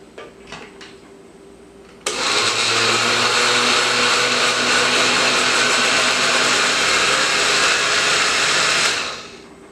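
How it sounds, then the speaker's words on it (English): A countertop blender mixing a gluten-free, high-protein bread batter runs steadily for about seven seconds, loud and close, after a few light knocks, then winds down. "And we just blend this until it is mixed"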